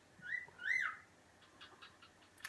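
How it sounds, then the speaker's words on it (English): Pet birds chirp indoors, giving two bright whistled calls close together near the start and then a few fainter, scattered chirps, with no talk over them. "my birds are just like partying over there"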